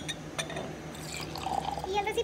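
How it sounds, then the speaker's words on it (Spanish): Hot water trickles and pours into a glass container, a thin liquid filling sound with small drips, close and fairly quiet beneath a speaking voice. "Vamos a proceder a colocar el agua caliente"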